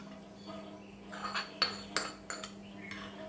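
A spoon stirring a freshly made spice tempering into a yogurt mixture in a pot: a handful of quiet metallic clinks and scrapes against the vessel, spaced irregularly over a faint background hum.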